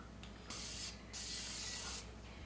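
A can of cooking spray hisses in two close, loud bursts, a short one followed by a longer steady spray, in a kitchen while keto cream cheese sausage balls are being made.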